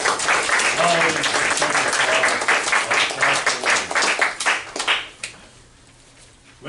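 Loud, dense applause from an audience at a staged wartime reenactment, sustained clapping for several seconds before thinning out into scattered claps and fading to near quiet.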